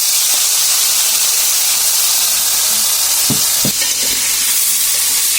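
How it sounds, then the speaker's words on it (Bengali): Fish frying in hot oil in a home kitchen, with mustard oil and turmeric-coated fish just dropped into the pan: a steady, loud sizzle with a few sharp spattering pops near the middle. "আর তেলটা গরম হয়ে গিয়েছে। আর মা এখন মাছগুলো ছেড়ে দিচ্ছে।"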